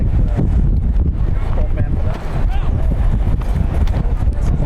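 Wind blows across an outdoor soccer field during a youth match, a steady loud roar and buffeting on the microphone under faint game noise.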